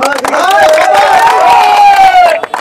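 A crowd at a rural hadudu match between Shariatpur and Madaripur district teams breaks into loud, close cheering and applause, with voices shouting over the clapping for about two seconds before it falls away.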